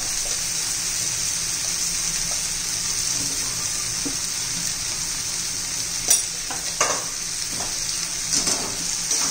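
A tomato and potato poha masala with turmeric sautés in a pan with a steady, close sizzle. Sharper scraping stirs break through near the end.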